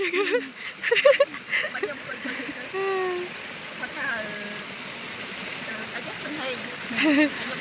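Waterfall rushing as a steady broad wash of falling water, with a person talking over it in the foreground.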